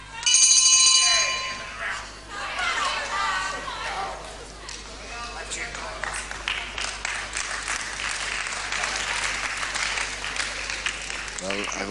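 A bell rings at the end of a round in a professional wrestling bout, loud and bright in the opening second, then fading into crowd applause and chatter while a commentator talks over the arena noise.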